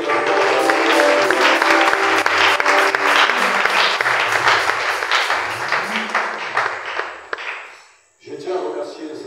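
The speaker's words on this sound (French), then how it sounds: "Est-ce que quelqu'un peut acclamer le Seigneur?" A church congregation applauds to acclaim the Lord, loud sustained clapping from many hands that fades out near the end. A voice speaks briefly afterward.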